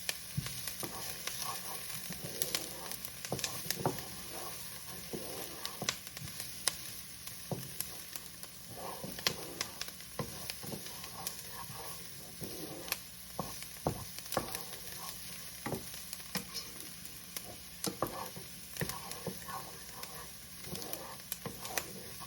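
Vegetables soften in a pan over turned-down heat, a gentle, steady sizzle with faint crackles and occasional stirring scrapes, close and quiet with no talking.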